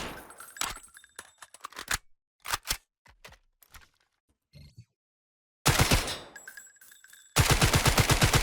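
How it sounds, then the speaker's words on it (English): Hip-fired automatic gunfire in the shooter Delta Force, loud rapid bursts at the start and again near the end with a long sustained volley, separated by quieter clicks of weapon handling; no speech. "Pretty quick on the hip fire. Ridiculous amount of recoil"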